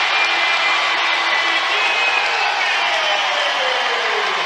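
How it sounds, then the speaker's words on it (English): A basketball arena crowd at an Iowa vs Drake women's college game roars after back-to-back three-pointers, a sustained dense wall of cheering and whoops that holds steady with a rising whistle-like tone running through it. "Getting the crowd all fired up with those back-to-back threes."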